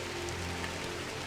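Light drizzle in the video game Drizzlepath: Genie, a soft, steady hiss of fine rain pattering on surfaces at an even level with no voices.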